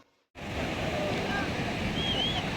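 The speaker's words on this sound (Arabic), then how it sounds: "زي ما انتم شايفين أجواء البحر، احنا جيت على بحر طبعا غزة." Sea waves along the beach at Gaza, a continuous wash of surf mixed with wind noise that starts abruptly after a brief quiet moment and stays steady.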